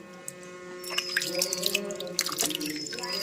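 Warm water poured and splashed during washing, with dripping and trickling in short irregular bursts under a steady hum, close and moderately loud.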